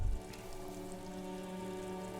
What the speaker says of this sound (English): All around you, rain falls on the great city of Revachol. Rain drips from the eaves and floods the gutters